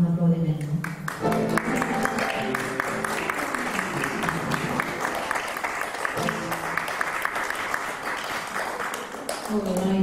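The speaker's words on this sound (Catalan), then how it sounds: "Un aplaudiment." A small audience at a book presentation claps warmly, steady applause carrying through most of the stretch, with a voice speaking at the start and again near the end.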